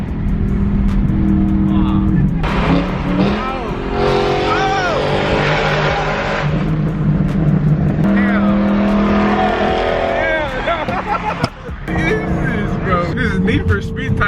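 Straight-piped BMW E92 M3 roaring under hard acceleration, a loud, continuous exhaust drone with rising and falling pitch sweeps as gears climb, close and dominant, with people talking and whooping over it.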